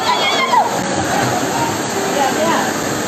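Floodwater rushing through a street in Andhra Pradesh, a loud, continuous churning roar and sloshing, with people's agitated voices over it.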